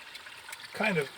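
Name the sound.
water trickling from farm waterway discharge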